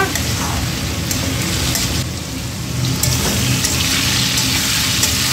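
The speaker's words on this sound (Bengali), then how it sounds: "এখানে হচ্ছে আজকে চিচিঙ্গা ভাজা" Snake gourd frying in a pan, with a loud continuous close sizzle and crackle like heavy rain, steady throughout with faint background noise.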